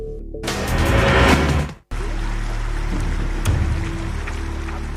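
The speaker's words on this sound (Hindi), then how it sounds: "नदी की तेज धारा में घर-बार सब कुछ बर्बाद हो चुका है।" Broad, steady rush of fast-flowing floodwater from the swollen Kosi river around Darbhanga, a loud continuous roar with low rumble, briefly cut out partway then resuming at even strength.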